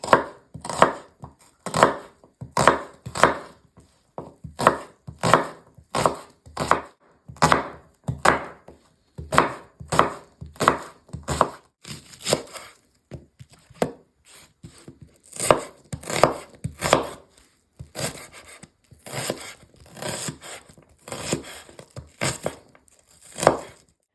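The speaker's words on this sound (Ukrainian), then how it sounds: "Я взяла три цибулинки. Будемо нарізати не дуже дрібненько." A knife chops three onions fairly coarsely for a Ukrainian borscht fry-up, a steady run of crisp, close knife strikes against a board coming in quick bursts with brief pauses, with no talk over it.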